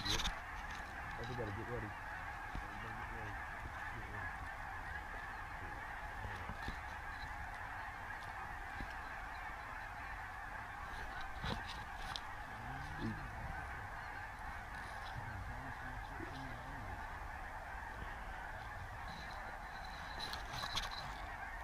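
A flock of geese honks overhead in a steady, overlapping chorus, with scattered calls rising above a constant outdoor wash and faint voices in the background.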